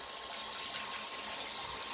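Water runs continuously to rinse out a baby bottle in a sink, giving a steady, fairly loud rushing hiss with no pauses.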